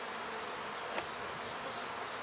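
Robber bees buzzing around a beehive with a reduced entrance, a steady, dense insect drone filling the air, close and continuous with no talk.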